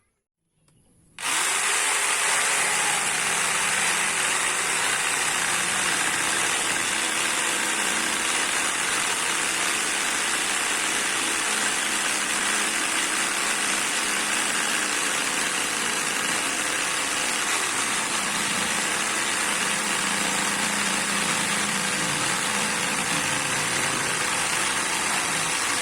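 A Mailtank SH29 jigsaw cuts at a tilted angle, a loud continuous buzzing whine that starts abruptly and holds steady for the whole stretch, with no talk over it.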